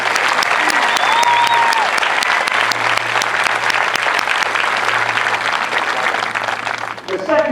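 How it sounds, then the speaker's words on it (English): Crowd of family and friends applauding at an Air Force basic military training parade, sustained heavy clapping across an open outdoor space with a steady low hum underneath and a whistle-like tone early on, a voice starting at the very end. "How about a big round of applause for our MTIs?"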